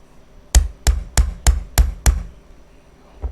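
Six sharp strikes of a hammer driving a hole punch through material land in a steady rhythm, close and loud, followed by a pause and one lighter final tap.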